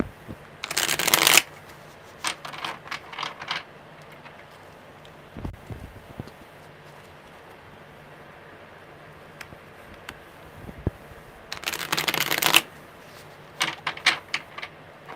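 Tarot cards are shuffled in two quick riffling bursts, one at the start and one near the end, with soft handling taps and light clicks between.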